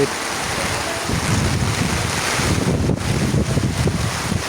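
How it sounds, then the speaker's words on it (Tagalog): Steady roar of typhoon wind blowing over a swollen, flooding river in a flood-prone village in Samar, loud and continuous with gusty rumbling surges throughout, no voices. "pag may bagyo dito sa amin dito sa Samar ay ganito"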